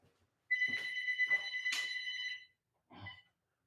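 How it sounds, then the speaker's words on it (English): A shop telephone in a BMX bike shop rings with a long electronic trill, pauses briefly, then gives a shorter second ring, near and clear over a quiet room. "Hold on, the shop phone's ringing."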